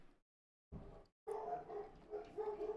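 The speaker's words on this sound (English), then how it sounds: "My dogs are barking for some reason." Dogs barking in a nearby room during a gaming livestream, with a couple of short, muffled bursts of barking separated by brief silences.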